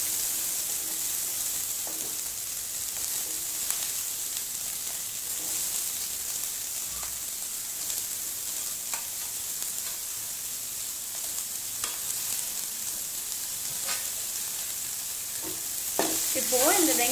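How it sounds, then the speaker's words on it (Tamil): Onion frying in oil and being stirred now and then, a steady sizzle with occasional scraping spoon sounds over about seventeen seconds, no speech. "நம்ம எடுத்து வச்சிருக்க வெங்காயத்தை இதில் ஆட் பண்ணிடுவோம்"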